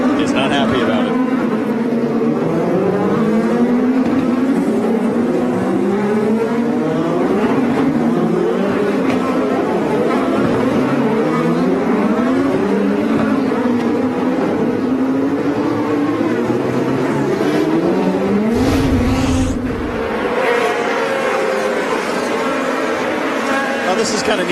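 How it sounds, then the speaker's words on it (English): IndyCar race cars at the 2013 Toronto street race, Sebastien Bourdais among them, roar past with engine pitch rising and falling as they blow by, loud and continuous beneath steady race commentary. "Look at the speed of the cars on the freeway in comparison to Sebastian Bourdais blowing by there"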